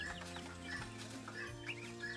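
Bantam chickens clucking close by in a coop, a few short, soft clucks and chirps spaced irregularly over a quiet, low background hum.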